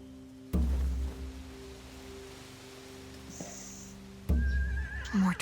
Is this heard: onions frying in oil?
no